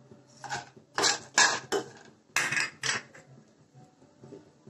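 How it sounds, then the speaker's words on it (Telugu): Cashews, almonds, pistachios and poppy seeds being dry-roasted in a pan for dry fruit laddu, with a spatula scraping and rattling the nuts in several close bursts between brief quiet gaps. "గసగసాలు వేసి కొంచెం రోస్ట్గా ఫ్రై చేస్తున్నాను"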